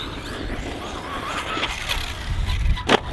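A Team Magic B8ER Special Edition 1/8 scale RC buggy drives continuously at moderate distance, a steady motor whine with brief squeals and a sharper burst near the end, no talking over it.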